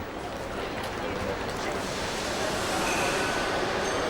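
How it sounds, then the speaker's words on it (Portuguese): A passenger train runs toward Lisbon, giving a steady broadband rumble and rattle that holds evenly throughout at moderate level, with no break in the running noise. "O comboio viaja praticamente vazio até Lisboa."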